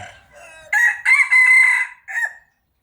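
A rooster crows once nearby, loud and clear, in a drawn-out cock-a-doodle-doo made of several bursts that trails off in a final short note.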